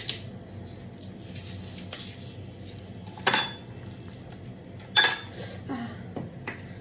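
Ice cubes dropped into a glass for iced coffee, several sharp clinks around the middle and later in the clip, with quiet handling rattles between them and no talk.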